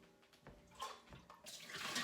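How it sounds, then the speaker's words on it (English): Water pours into a home brewing fermenter while an Irish stout kit is being made, a faint splashing and rushing stream that swells over about two seconds. "I forgot I need to add a little bit of water."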